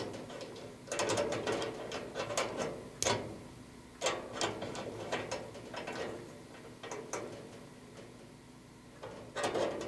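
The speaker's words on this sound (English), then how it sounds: "grab this nut and just tighten it a smidge" Metal clicks and ratcheting taps from a wrench tightening a nut on a brass fitting of a ventless gas heater, in irregular bursts of close, crisp ticks over a low steady hum.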